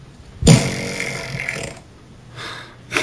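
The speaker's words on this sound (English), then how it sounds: "Oh, here it is, lawnmower fart." A novelty lawnmower fart sound effect: one loud, raspy, sputtering blast lasting over a second that tapers off, then a couple of shorter, fainter puffs at the end, heard alone with no talking.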